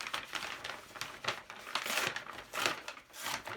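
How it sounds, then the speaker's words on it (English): A plastic bag torn apart along its seam by hand, a close series of crinkling rips in short uneven bursts with brief pauses between pulls. "Rip along the seam line."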